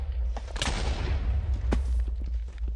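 A Minecraft arrow cannon fires in the video game, giving a rumbling burst of explosive thuds. Two sharp blasts stand out above the continuous low roar.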